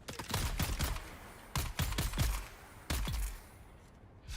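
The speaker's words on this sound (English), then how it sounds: "We're just testing this gun, guys." Gunfire from a weapon being tested in the game Dune Awakening: three loud bursts of rapid shots with small explosive impacts, each burst about a second long, separated by short pauses, with no talk.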